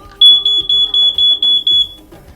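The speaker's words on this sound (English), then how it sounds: "check your smoke detector from time to time to see if the smoke detector is still working." A smoke alarm chirps in a steady series of six sharp, high-pitched beeps, loud and close, with a short gap between each.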